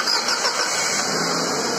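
A Datsun redi-GO car engine starts and settles into a steady, even running hum, held at close range with no revving and no voices.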